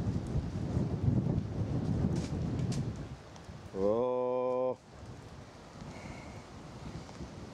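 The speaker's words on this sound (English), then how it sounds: "And the wind is howling." Strong wind howls and buffets the microphone while sea kayaking off the Irish coast near Slieve League in rain, a rough continuous rush broken by a brief steady tone midway, with a short exclamation.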